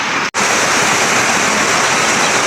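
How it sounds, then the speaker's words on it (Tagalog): Muddy floodwater pours in steadily during Typhoon Carina, a loud continuous rushing wash close by, broken only by a split-second dropout near the start. "Madilim, maputik na yung tubig pumasok."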